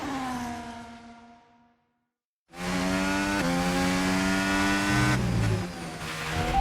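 F1 race cars in the video game F1 2025 on Xbox Series X scream past with high whining engines. A pass fades out into brief silence, then a loud, sustained engine roar returns with pitch shifts as the cars accelerate.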